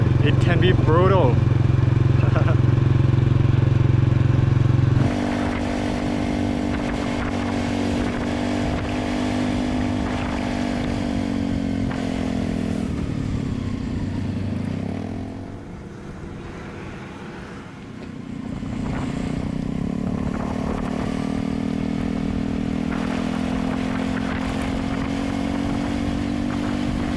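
A motorbike rides along a road in Laos, its engine droning steadily with loud wind rush, easing off midway before picking up again, while a voice talks over it.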